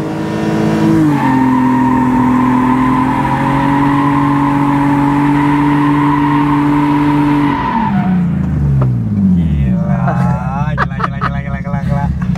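A car engine during drifting practice holds a loud, steady high rev for several seconds, then drops and winds down, with people talking over it.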